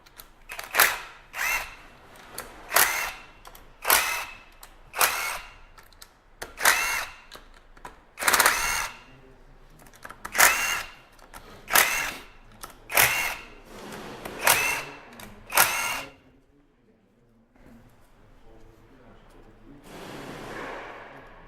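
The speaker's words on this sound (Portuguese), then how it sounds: "Aí aqui nós vamos soltar os parafusos que estão com cabeça 10 milímetros" Power drill loosening 10 mm head screws from a casing, about a dozen short loud whirring bursts in a regular rhythm, followed by a quieter pause and a final softer whir.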